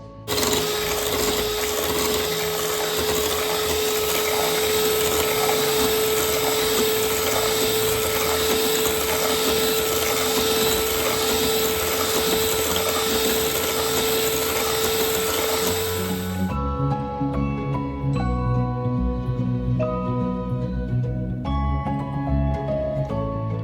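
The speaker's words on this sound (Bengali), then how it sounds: "এইবার এটাকে আমি আবার ব্লেন্ড করব।" An electric blender whirs loudly and steadily while mixing cake batter, then cuts off after about sixteen seconds, leaving quieter clattering and kitchen handling sounds.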